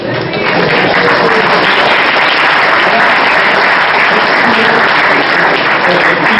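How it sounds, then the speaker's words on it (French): An audience at an Action Française colloquium applauds in a sustained, dense, even wash of clapping that fills the room, loud and steady throughout, with no talk over it. "les applaudissements sont censés être aussi nourris qu'avec les invités médiatiques de la première partie"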